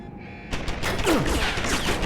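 Turret gunfire in the video game Deus Ex Human Revolution, a sudden burst of rapid mechanical shots that starts abruptly after a quiet moment and continues with clattering impacts.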